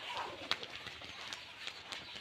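Rajshahi Giribaz pigeons coo softly in a loft, low murmuring calls with a few sharp clicks and rustles, faint and close in a quiet space.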